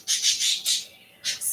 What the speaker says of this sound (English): There's birds up there